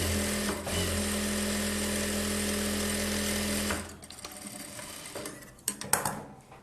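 A sewing machine runs steadily while stitching a blouse, a continuous close hum with a whirring drone that stops abruptly about halfway, followed by quieter handling noises and a few clicks.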